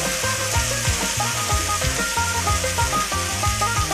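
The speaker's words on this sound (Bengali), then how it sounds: "আবার মশলা একটু নাড়াবো" Spice paste of cumin and green chilli frying in a pan during a Bengali soybean and potato dish, a continuous close sizzle with a repeated soft scraping rhythm of stirring throughout.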